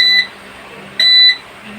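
Two loud electronic beeps from a pisonet coin timer, a short one then a longer one about a second later, sharp high tones over a quiet hum.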